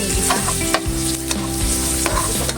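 Ginger frying in a hot pan for a Filipino ginataang snail dish, a steady crackling sizzle up close with a few scrapes of stirring, no voices.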